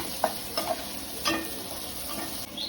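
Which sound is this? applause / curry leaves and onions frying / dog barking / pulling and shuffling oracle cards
curry leaves and onions frying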